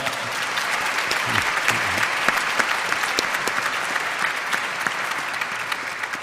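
An audience at an evening of Sufi poetry and music bursts into sustained applause for a birthday, dense clapping filling the room throughout with no talk over it.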